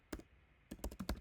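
Keys clatter on a computer keyboard as an nslookup command is typed at a command prompt: a short burst of taps, a pause, then a quicker run of several sharp, close keystrokes.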